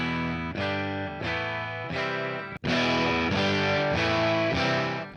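Electric guitar with its pickup raised high, played through a distortion pedal: heavy, saturated chords ring out and sustain, then after a brief cut a louder chord crashes in and holds.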